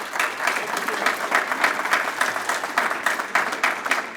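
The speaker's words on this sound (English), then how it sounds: "let's give him a round of applause" A crowd applauds steadily at a scholarship awards ceremony, dense clapping at a constant level from start to finish, fairly close and without any talking over it.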